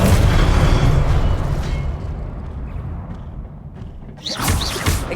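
Incendio fire spell cast in the video game Hogwarts Legacy, a loud roaring burst of flame that swells, fades over a few seconds, then flares again near the end.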